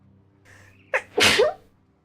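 A single sharp sneeze bursts out after a short breathy intake, close and clear, in an otherwise quiet room.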